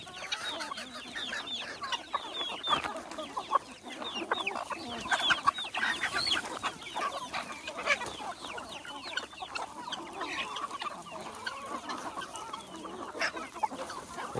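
Free-range desi country chickens on a farm cluck and call continuously, many birds close by forming a busy, overlapping chorus with sharper individual calls scattered throughout.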